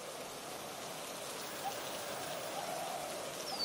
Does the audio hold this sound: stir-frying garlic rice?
no